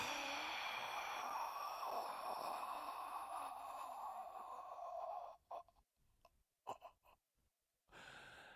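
A long, steady breath pushed out forcefully through the abdominal muscles during a standing breathing exercise, close and sustained for about five seconds. Brief gasping inhales and short breath sounds follow, separated by near silence, then the exhale starts again.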